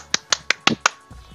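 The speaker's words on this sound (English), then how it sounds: "What is that racket? Me clapping." Five sharp, evenly spaced hand claps at close range, crisp and quick, followed by a faint softer sound.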